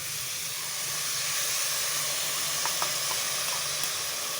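Curd and ginger garlic paste mixture hitting a hot pan while cooking chicken curry, giving a steady broadband hiss of sizzling that holds evenly throughout, with a few faint clicks and pops.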